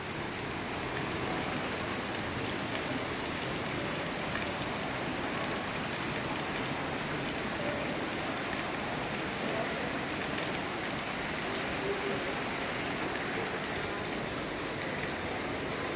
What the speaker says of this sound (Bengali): আজকে বৃষ্টির দিনে